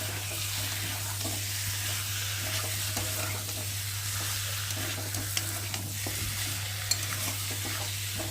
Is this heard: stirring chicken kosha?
yes